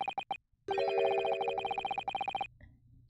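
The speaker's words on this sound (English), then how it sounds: "That sounds like Morse code to me." Electronic beeping from a music box in The Great Ace Attorney, tapping out Morse code: short and long tonal pulses in an uneven run, clear and close, with no talk over it.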